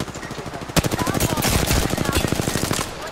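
Rapid automatic gunfire in the shooter Apex Legends rattles in one sustained burst of about two seconds, with evenly spaced loud cracks, and a faint voice may sit beneath it.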